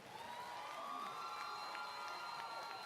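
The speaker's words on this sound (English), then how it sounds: "Let's give them a round of applause." A crowd cheers and applauds at the Claflin University 2018 commencement ceremony, a steady, distant roar of voices and clapping with a few sharp whoops throughout.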